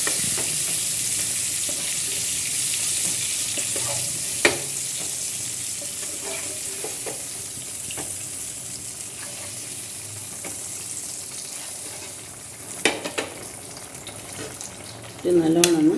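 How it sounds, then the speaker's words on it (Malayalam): Fried chicken pieces are stirred into chicken biryani masala in a pan, giving a steady sizzle with scattered scraping knocks of the spoon; a louder burst of frying rises near the end, with no talk. "ചിക്കൻ്റെ മസാലയിൽ ചിക്കൻ വറുത്തത് ഇടുന്നുണ്ട്."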